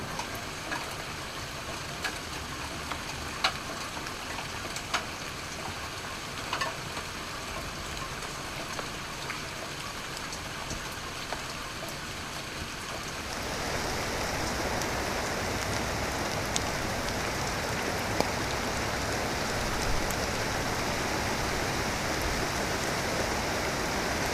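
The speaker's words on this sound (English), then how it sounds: "a rain shower moves in" A rain shower arrives outdoors where pigeons feed: light patter and drips at first, then a sudden switch to heavier, steady rainfall hissing on surfaces for the rest of the stretch, without voices.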